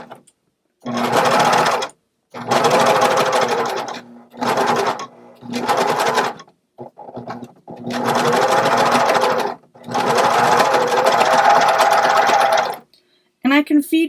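A serger runs in several fast bursts as it stitches fabric, with short pauses between runs. Its whirring motor is loud and close, and a voice briefly comes in near the end.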